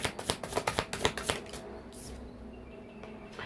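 A tarot deck being shuffled, a quick run of crisp card riffles and snaps for about a second and a half, then quieter handling as a card is drawn, close up.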